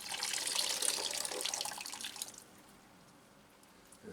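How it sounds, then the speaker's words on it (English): Excess water is squeezed out of wet orchid potting medium during repotting, giving a close, hissing, trickling splash that runs for about two seconds and then drops to a faint drip. "we'll squeeze all the excess water out"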